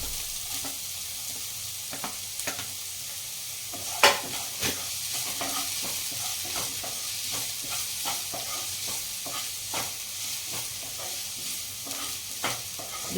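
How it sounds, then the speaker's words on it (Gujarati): Chopped onion and hot chilli fry in a pan for hot and sour soup, a steady broadband sizzle with scattered clicks of stirring and a sharper knock near the start, moderately close with no voices. "ડુંગળીને થોડી ફ્રાય થવા દઈશું."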